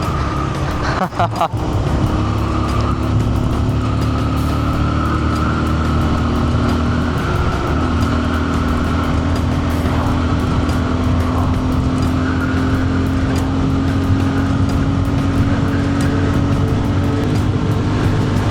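A Bajaj Pulsar 150 motorcycle being ridden on an open road, its engine droning steadily at a constant pitch under loud wind rush, close and continuous for the whole stretch.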